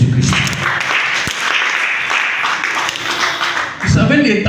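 A church congregation breaks into sustained applause and cheering, a dense, loud wash of clapping that carries on throughout, with voices mixed in.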